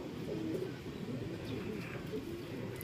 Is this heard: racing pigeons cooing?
yes